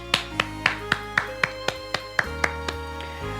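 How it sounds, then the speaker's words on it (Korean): A church congregation at a Friday worship service claps in unison in thanks to God, about a dozen evenly spaced claps over sustained organ or keyboard chords. "하나님께 감사의 박수 드리겠습니다."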